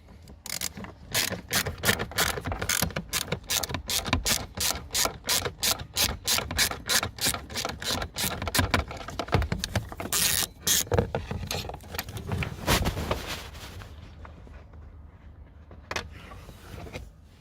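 A ratchet on a long extension undoes a T20 Torx screw inside the glove box area of a VW Tiguan Mk2, making a steady, rapid series of close clicking strokes that pause briefly, then taper into a few scattered clicks.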